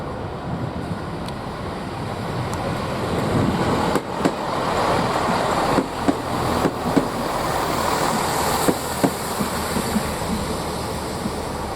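A Class 66 diesel locomotive works hard at Didcot Parkway station, a loud, steady broadband rumble and roar that holds throughout, with a few sharp clanks and knocks standing out over it.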